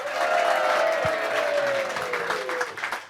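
Applause for the carnival prince and princess of a carnival society rings out inside a café during a Vastelaovend celebration, steady crowd clapping that fills the room for a few seconds, with a brief low thump partway through.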